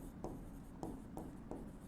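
Pen writing on paper in a classroom accounting lesson, a steady scratchy scribble with short stroke bursts recurring about every half second, close and quiet, with no talking.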